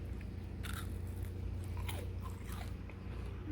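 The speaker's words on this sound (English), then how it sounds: "I'm gonna go ahead and take a bite here." Someone bites into a cookie topped with pretzels and flaky salt, making a few close, crisp crunches over a quiet background.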